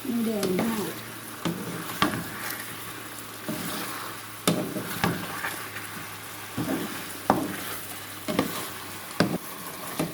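Ingredients for a Thai palo stew are stir-fried in a pan, giving a constant soft sizzle broken by repeated sharp scrapes and clinks of the spatula, close and fairly quiet, with no talk.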